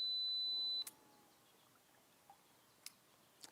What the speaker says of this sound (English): And I'm just using the self timer.